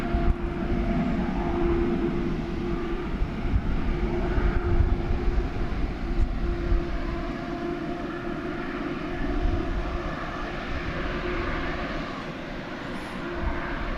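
A passenger airplane slowly taxis along a path toward a runway at Dallas/Fort Worth International Airport, its engines making a steady, continuous low rumble and roar that holds at a fairly even loudness throughout, with no voices.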